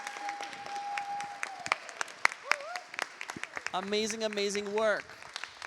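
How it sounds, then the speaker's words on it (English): Audience applause for students on a mental health panel at a student coalition evening event, scattered claps running beneath a speaking voice and then a sung or sustained vocal tone. "Can we give a big round of applause to"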